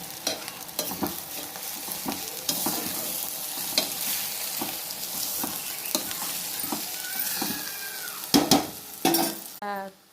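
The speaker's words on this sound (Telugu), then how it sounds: "ఇప్పుడు అరటికాయ వేసుకుందాం. వేసుకొని తిప్పేసుకుందాం." Raw banana pieces fry with softened onions in a pan and are turned with a spatula, a steady sizzle under repeated scraping strokes, with a few louder clanks near the end.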